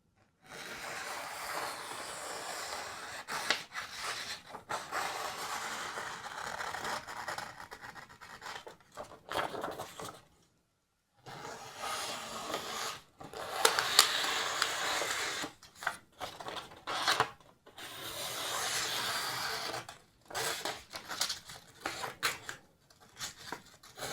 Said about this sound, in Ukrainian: Протираємо ніж і перевіримо папером, як він ріже взагалі чи ні.